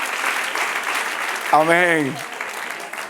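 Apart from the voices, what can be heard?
applause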